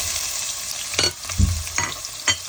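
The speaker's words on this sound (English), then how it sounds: "a spoon of garlic to cook, to fry up a bit before I add the main event" Onion and garlic fry in oil in a pan, giving a steady close sizzle broken by a few louder bursts of stirring and spoon scrapes, with no voices.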